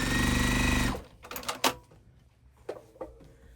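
A sewing machine stitches quilt fabric in a fast, loud, steady whir for about a second, then stops, followed by soft clicks and handling noises.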